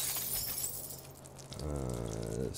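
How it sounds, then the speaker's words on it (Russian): Glass containers of toxic chemicals crash and shatter on the floor in the South Park: The Fractured But Whole video game. A bright burst of breaking glass is followed by a low, droning hum. "Надеюсь, на пол только что упали токсичные химикаты, о которых я только что говорил."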